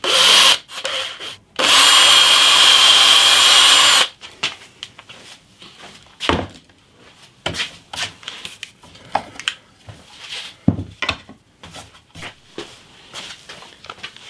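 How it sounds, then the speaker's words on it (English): A power drill bores a pilot hole through a guitar body built from wood scraps, with a template clamped on top. One loud steady burst of drilling lasts a few seconds, followed by scattered knocks and handling sounds. "I'm going to drill a pilot hole."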